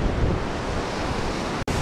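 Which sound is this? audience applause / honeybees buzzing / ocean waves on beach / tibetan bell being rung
ocean waves on beach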